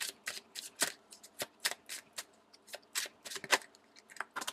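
Wishcraft tarot cards are shuffled by hand, giving a quick irregular run of crisp papery riffles and snaps, close and fairly quiet, with no talking.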